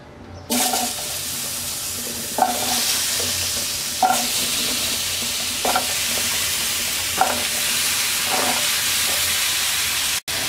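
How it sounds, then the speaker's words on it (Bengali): Potatoes and pointed gourd frying together in hot oil, a loud continuous sizzle broken by about six regular stirring knocks and scrapes, with nobody talking. "এবার আমরা আলু আর পটল একসাথে দিয়ে হালকা ভেজে নেব।"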